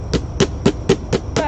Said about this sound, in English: But let me just hammer it here.